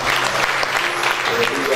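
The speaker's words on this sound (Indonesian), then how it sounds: "Mari berikan tepuk tangan buat Tuhan." A church congregation at a Christmas celebration claps together in a dense, steady burst of applause filling the hall, with voices mixed in.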